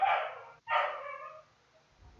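A neighbour's dog barks twice, loud and sustained, from somewhat off-mic indoors, with a short gap between the two barks and quiet afterward.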